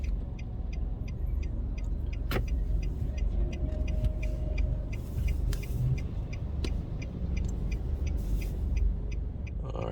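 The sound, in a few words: car driving past apartments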